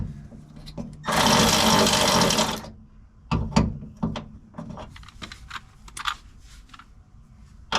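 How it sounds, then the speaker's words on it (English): Power tool removing bolts from the window regulators of a Chevelle during a restomod, a loud sustained whir for about a second and a half, then scattered clicks and knocks of handling the parts. "First, we want to take these bolts out."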